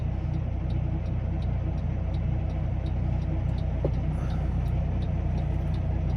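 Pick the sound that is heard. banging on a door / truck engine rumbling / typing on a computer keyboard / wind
truck engine rumbling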